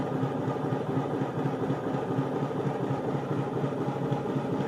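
A Bachmann LMS Hughes Crab model steam locomotive runs at half speed on a rolling road, giving a steady, continuous motor hum and mechanical whir that stays even and fairly loud throughout, with no voices.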